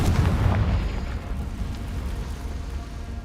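A Confringo blasting spell explodes in Hogwarts Legacy, a heavy low boom at the start that decays into a rumbling, crackling tail of debris with no talk over it.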